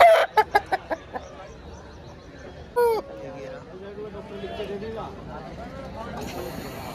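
Rooster and hen clucking, with a few short loud bursts at the start and an upward crowing-like call, over a busy babble of voices at a poultry market near Jama Masjid, Delhi.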